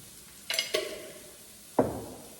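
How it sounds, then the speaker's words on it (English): Turmeric is stirred in a cooking pan with two quick scrapes close together, a pause, then one louder scrape against the pan, all over quiet room noise. "I'm gonna keep stirring"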